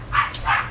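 Dog barking, two quick close barks with a short yip between them, loud and alone, amid a little background hum.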